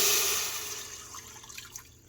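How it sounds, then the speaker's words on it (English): Chicken broth is poured into an Instant Pot to deglaze the pan for pasta carbonara, a steady liquid rush and hiss that fades over about a second into faint clinks and drips. "Now I'm going to pour that in first and use it"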